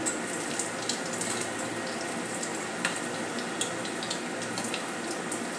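Cheese balls fry in hot oil with a steady, dense sizzle and bubbling that never lets up. Small crackles and pops rise now and then, close and fairly loud, with no voices.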